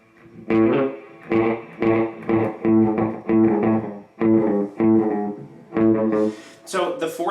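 Electric guitar through a Boss RE-202 Space Echo delay, first and second heads combined, plays a steady run of evenly spaced notes with repeating echoes, loud and close.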